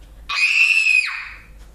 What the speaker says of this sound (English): Scream. Someone screams.